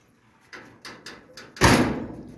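A 1929 Chrysler passenger door is worked shut with a few light knocks followed by one solid, loud closing thump, heard up close.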